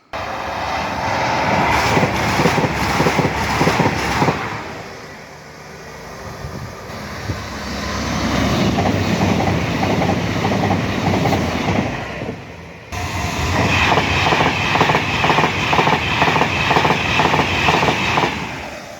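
Trains rumble past a level crossing beside the Trent & Mersey Canal in long, loud stretches, three passing in turn, the noise swelling and easing with a brief lull between passes.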